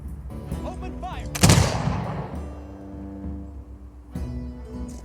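Industrial-era unit gunfire in the strategy game Humankind, a loud burst of shots with a long rumbling tail that fades under a musical background.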